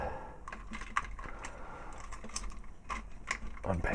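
Plastic parts of a Transformers Combiner Wars Armada Megatron toy clicking and snapping as panels are folded, a run of small close ticks and clacks with brief talk in between.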